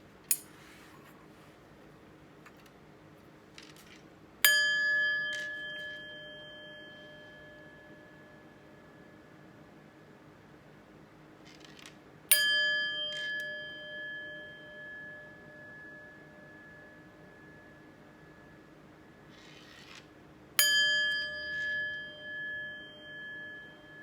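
Three chime bells are struck one after another, each ringing out clearly and fading in a long sustained tone before a tarot reading, with quiet pauses between strikes and no talking.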